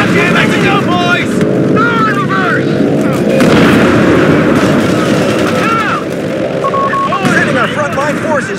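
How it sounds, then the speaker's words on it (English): Heavy wartime combat in Company of Heroes 3's Italian campaign, with incendiary explosives going off amid continuous booming artillery and gunfire. Loud and dense throughout, with voices shouting over the din. "They're using incendiary explosives!"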